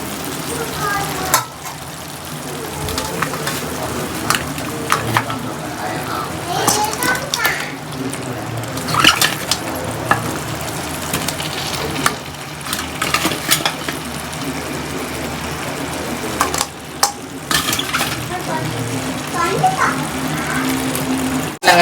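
Chicken feet dropped into a sizzling onion, tomato and ginger-garlic masala, frying steadily with bursts of stirring and spoon scrapes, close and loud, while a voice talks over it.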